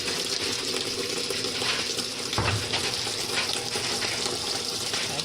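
Water rushes steadily into a washing machine filling for a cold rinse on a load of cloth diapers, a constant close hiss and gush with a brief thump partway through.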